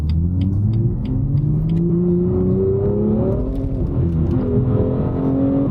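A Mazda MX-5 driving on the road, its engine droning steadily from inside the cabin, with pitch climbing as it accelerates and shifts, alongside road rumble and no talking.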